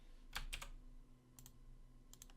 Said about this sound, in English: you can do that by pressing M on the keyboard